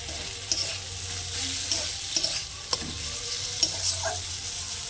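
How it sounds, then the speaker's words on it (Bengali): Fish fat sautés slowly in a pan over a low flame, giving a soft, even sizzle broken by a few sharp stirring taps, with no voices. "অল্প আঁচে আমি কষিয়ে নেব আর মাছের তেলের তেলটা বেরিয়ে যাবে"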